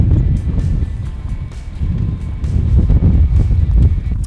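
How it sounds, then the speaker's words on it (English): Strong wind buffets the microphone at an off-grid campground in the Pacific Northwest, a low, gusting roar that rises and dips continuously. "It's very windy."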